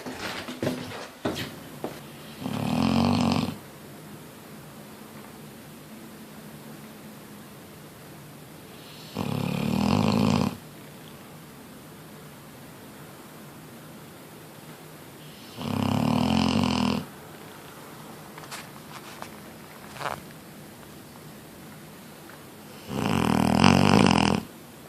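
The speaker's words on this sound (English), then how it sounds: "She snores so loud, I have no idea how this is possible." A Mastiff dog snoring loudly nearby, four long rasping snores spaced several seconds apart with quiet breathing and room hush between them, no talk.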